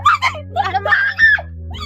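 A woman screams loudly in several sharp, wailing bursts on a farm on an early morning, close and harsh, with the cries rising and breaking over nearly two seconds.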